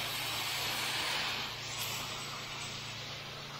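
A pressure washer gun sprays continuously during a house wash with a pool deck, a steady close broadband hiss of water jet holding evenly for several seconds with a low mechanical hum beneath.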